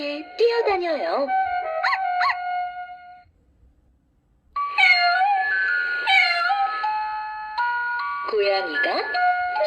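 A cat meows from a children's animal sound book, a few playful electronic mews set inside a bright chiming melody that stops briefly, then plays again.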